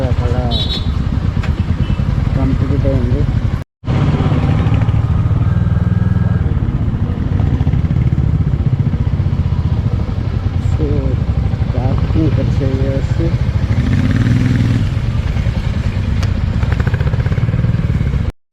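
A motorcycle engine drones steadily throughout with wind rumble on a ride from Goa to Murudeshwar, Karnataka, while a person talks over the ride.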